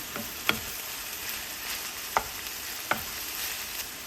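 Big rigatoni with crushed Calabrian chili pepper in a hot pan, a quiet steady sizzle with a few sharp utensil clicks as it is stirred, close and alone without speech.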